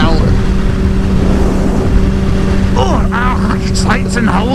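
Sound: two sport motorcycles riding

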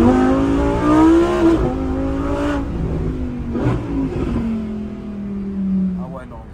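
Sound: car engine revving and accelerating hard

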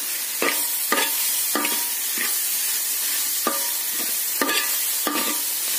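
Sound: stirring grated coconut into rava upma in a pan

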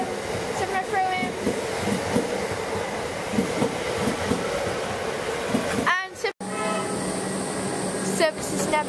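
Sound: Metropolitan train departing Seddon station

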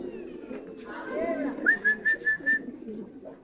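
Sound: racing pigeons landing at the loft

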